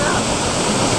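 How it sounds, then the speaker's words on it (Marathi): Steady, loud rush of a waterfall in the rainy Sahyadri hills at Bhandardara, a dense unbroken roar with no breaks. "किती मस्त वॉटरफॉल आहे बघा"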